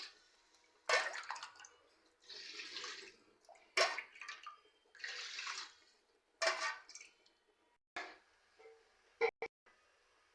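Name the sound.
water poured into pan for cooking rice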